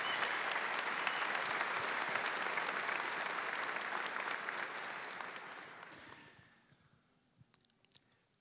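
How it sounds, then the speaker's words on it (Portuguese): A Catholic congregation at Sunday Mass applauds the seminary formators with loud, dense clapping that holds steady, then fades out into near silence with a few scattered claps. "dando uma salva de palmas a eles."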